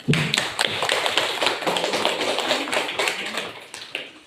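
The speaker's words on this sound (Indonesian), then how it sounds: "Ya, tepuk tangan." Students in a classroom during a Quran lesson clap together, giving a busy, close patter of many overlapping hand claps that carries on for several seconds.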